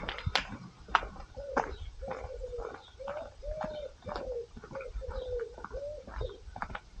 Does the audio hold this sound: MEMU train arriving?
no